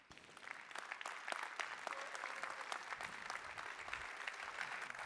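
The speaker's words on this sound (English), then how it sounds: "Let's give them a round of applause." An audience at a candidates' debate gives a sustained round of applause, a dense, even patter of many hands heard from some distance at low volume.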